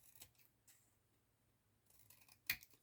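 Quiet, close snips of scissors trimming a paper envelope made from junk mail, with a few soft cuts early and one crisp, louder snip near the end, and no talking.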